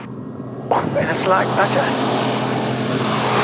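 A small propeller aircraft drones steadily at takeoff power as its nose wheel lifts off the ground, the engine loud and close while people talk inside.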